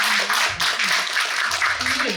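An audience at a Korean book concert for the novel about strangers in Siberia claps together in a short, dense burst of applause, with voices talking over it.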